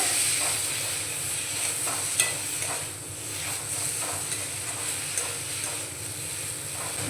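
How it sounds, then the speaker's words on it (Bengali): Chili powder is stirred into ginger garlic paste frying in a little oil, giving a steady soft sizzle with occasional scraping stirs, close and moderately quiet, with no talking. "লঙ্কা গুঁড়োটাও ভালো করে মিশিয়ে নেব।"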